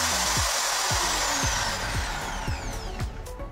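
A 550-watt electric drill runs at full high speed, its motor whine rising and steady up close, with a few faint clicks underneath and no voices.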